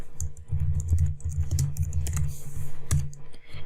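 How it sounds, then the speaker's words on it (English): Rapid typing on a computer keyboard, a fast irregular stream of close, crisp key clicks with a few brief pauses and heavier keystrokes, and no voices. "So I'm just gonna type here image.png"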